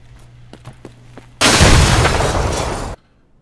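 A grenade blows up in the Escape from Tarkov shooter game, one loud, close, sustained boom lasting over a second after faint background noise, then cutting to near silence.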